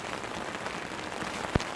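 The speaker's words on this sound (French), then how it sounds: "On va dire qu'il pleut trop." Heavy rain drumming on a saturated tent fabric at night during a bikepacking trip, a dense steady hiss of drops with one sharper splat near the end.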